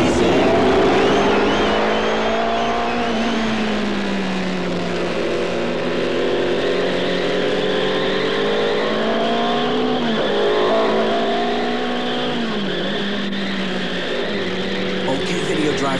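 A Tyco Video Driver toy race car engine revs and races with a loud, steady whine that rises and falls in pitch as it speeds along, continuous and close throughout.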